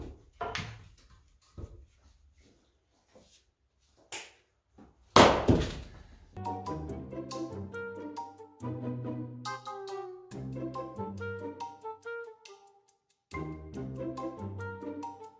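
Fiskars X27 splitting axe striking wood, several sharp separate thunks spaced a few seconds apart, with a tonal ringing stretch later on.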